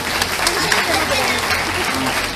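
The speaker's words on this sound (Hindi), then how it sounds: "अब इनके लिए भी ताली बजाओ।" Applause from the audience at a Srimad Bhagwatam katha gathering in Garhi, Delhi, a dense burst of steady clapping filling the whole moment.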